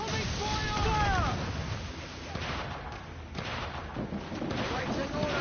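Ship cannons fire in the Assassin's Creed Black Flag video game, heavy booming blasts rolling over a constant roar of sea and battle, with crew voices shouting throughout.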